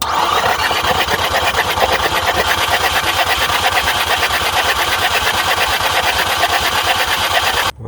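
A car engine is cranked over by the starter without firing, producing a loud, steady rhythmic chugging whir with oil being blown out of the plug holes, continuing unbroken for about eight seconds before cutting off abruptly.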